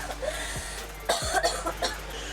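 A hospital patient on nasal oxygen coughs several times in quick, harsh bursts, close by, over a steady low hum of equipment.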